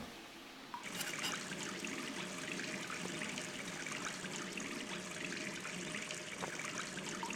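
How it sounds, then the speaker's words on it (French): Water running from a bathroom faucet in the video game Gone Home, a sudden turn-on followed by a steady trickling stream into a sink, close and continuous. "je peux prendre le savon, je peux ouvrir le robinet."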